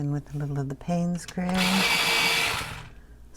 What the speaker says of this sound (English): Sorry for the sharpening noise.